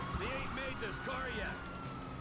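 Police car siren in the video game GTA 5, a rising and falling wail running steadily through the clip at moderate level beneath game sounds and talk.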